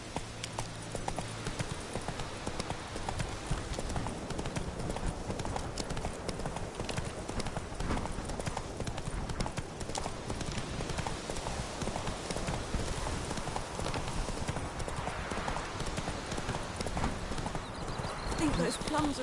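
Hooves of the horse Roach clip-clopping steadily in a video game, a constant rhythmic gait with ambient game sounds and someone talking over it.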